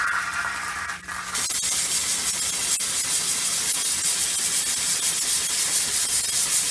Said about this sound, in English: Here we go with the injection and then the steam.